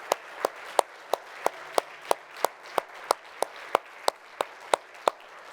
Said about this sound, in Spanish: Podemos bajar nuestros brazos y darle un aplauso a nuestro Señor Jesús.